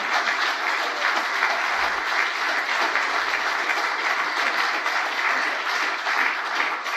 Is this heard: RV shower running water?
no